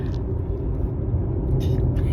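A car drives down the road with a window down, filling the cabin with loud, steady low wind buffeting and road rumble for about two seconds.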